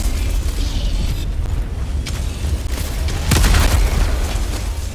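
In the video game Helldivers 2, a hellbomb goes off as a deep booming explosion with rumbling low end and crackling bursts, swelling louder midway through a few seconds of chaotic battle noise.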